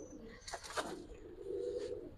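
A white Ceylon-type pigeon coos close by, giving a couple of soft, low rolling coos over faint background noise.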